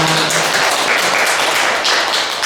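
An audience at a Buddhist temple lecture gives a burst of thankful applause, dense continuous clapping that fills the room steadily and fairly loudly for a couple of seconds.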